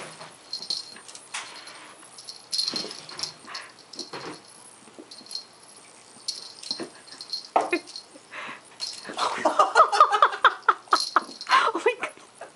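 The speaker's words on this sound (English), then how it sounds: "He's got it in his mouth again, so he's growling." An Australian Mist kitten growls while playing with a toy held in its mouth: low, rough growls come close up among scuffling and rustling, building into a denser run of growls near the end.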